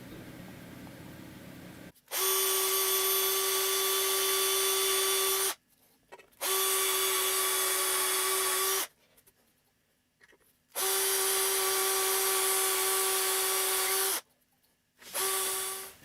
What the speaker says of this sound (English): I'm just going to drill through for the string retainers